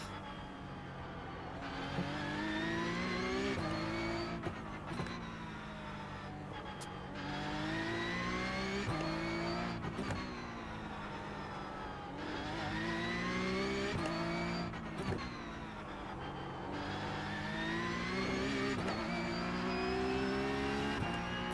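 Porsche Cup race cars in the iRacing sim roar continuously, engines revving and shifting through gears with rising and falling pitch, several cars close together with brief tire squeal over a steady loud drone.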